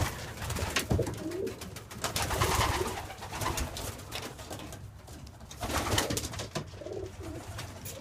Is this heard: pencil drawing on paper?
no